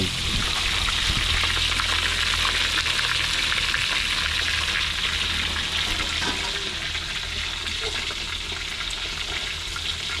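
Two fish frying in hot oil in a pan, a continuous loud, even sizzle and crackle that fills the whole stretch without voices.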